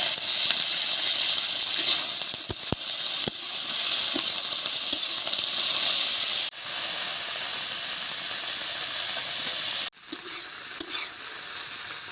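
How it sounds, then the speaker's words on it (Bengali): Cauliflower pieces fry with salt in a hot pan of oil, giving a steady loud sizzle and hiss with occasional sharp clicks of stirring, two brief dropouts breaking the constant frying noise, and no talking. "ফুলকপিটা ভাজার সময় একটু লবণ দিচ্ছি।"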